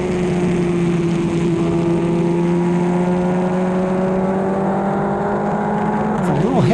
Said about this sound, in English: A little hesitation in the engine right there.